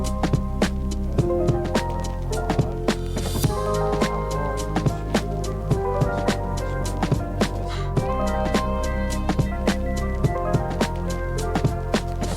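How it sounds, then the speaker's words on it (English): Morse code from an aircraft radio in a Flight Simulator game sounds as steady, evenly spaced tones repeating throughout, fairly loud over a low cockpit hum. "Okay, Morse code"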